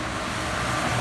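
A Peterbilt truck rolling past on Route 33, a loud, close, steady engine and road rumble over the full moment with no voices.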